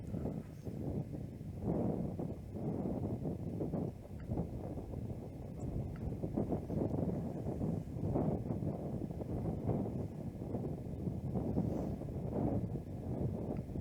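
Wind gusting across an open disc golf course, buffeting the microphone as a low, uneven rumble that swells and fades in repeated waves throughout.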